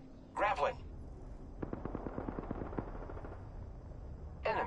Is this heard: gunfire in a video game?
yes